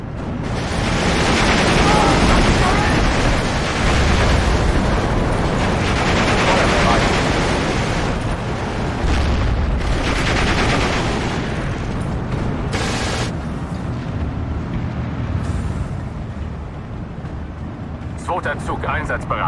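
Artillery firing high-explosive shells in the video game Steel Division 2, a dense, loud stretch of booming blasts and rumbling explosions that carries on throughout.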